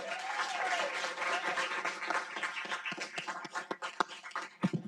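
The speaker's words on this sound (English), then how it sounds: "How about a big round of applause for all of our Cardinals of the Month?" A school ceremony honoring students of the month draws a round of applause, steady mixed clapping from a modest crowd that grows patchier and fades toward the end.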